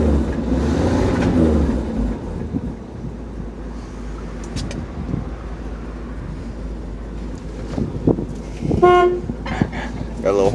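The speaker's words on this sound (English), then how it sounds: "Got a little horn button in there." Horn of a 1964 Chevy with a 250 straight six, one short toot near the end after a stretch of steady low engine idle, heard close with a voice speaking over it.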